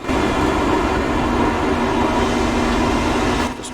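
Train passing close by in Iowa, a loud, steady rumble and roar holding throughout before easing off at the very end, with no voices.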